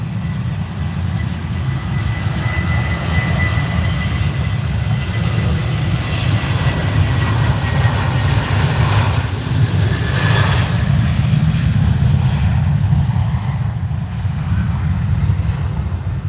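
Airliner jet engines at Manchester Airport, including a TUI Dreamliner lining up and an SAS A320neo taxiing in spray, make a steady loud roar that swells in the middle and holds throughout, with no voices.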